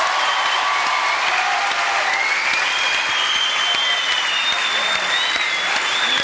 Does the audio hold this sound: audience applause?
yes